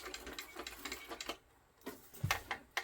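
Sewing machine top-stitching a leather backpack: close, rapid mechanical stitching in short bursts, with a brief pause midway before the stitching resumes.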